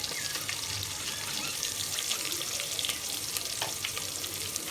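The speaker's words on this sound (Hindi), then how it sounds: "प्याज को फ्राई कर लेते हैं" Onions frying in a pot for green chilli pulao make a dense, even, hissing sizzle with crackling spatter that stays loud and constant throughout, with no talking.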